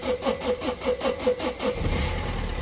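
A diesel engine cranks over in the cold at about two degrees, its starter churning in a steady rhythmic pulse for nearly two seconds before giving way to a rougher, continuous rumble.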